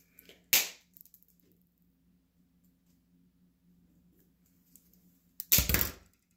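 Plastic model railway track is cut with two sharp, loud snaps, one near the start and one near the end, separated by a quiet stretch with a faint hum and small clicks.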